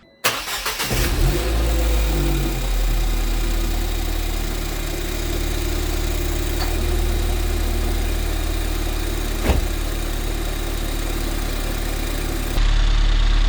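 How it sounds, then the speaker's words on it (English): A car engine starts with a brief crank and settles into a steady idle, a low rumble with a faint continuous whir, close and fairly loud. "it's a mild whirring noise that I don't think you're going to hear very loud"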